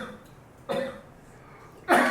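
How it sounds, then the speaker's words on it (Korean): Two separate coughs ring out in a quiet lecture hall, the second louder and harsher like throat clearing, with silence between them. "강의를 하는데 계속 기침을 하면서 방해를 하시는"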